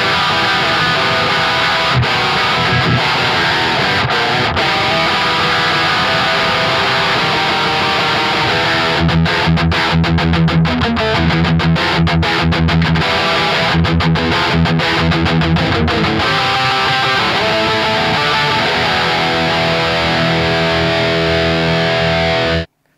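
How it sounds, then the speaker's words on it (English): Heavily distorted electric guitar, an Ibanez Iceman through a Marshall Jubilee amp patch, riffs loudly with chugging palm-muted passages and sustained crunchy chords, no voices. "The distortion channel that you heard was a Marshall Jubilee patch"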